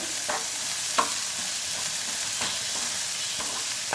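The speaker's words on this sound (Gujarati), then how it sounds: "હવે ટામેટાં સોફ્ટ થાય ત્યાં સુધી ચડવા દેવાનું છે ચપટી નમક ઉમેરીશું જેથી ટામેટાં જલ્દી ચડી જાય એકવાર મિક્સ કરી લઈએ" Tomatoes with a pinch of salt soften in a hot pan, a gentle even sizzle punctuated by several light clicks and scrapes of a spoon mixing them, close and fairly quiet with no speech.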